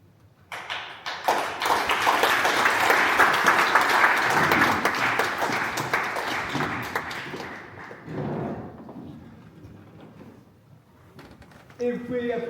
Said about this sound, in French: Et vous pouvez applaudir ce soir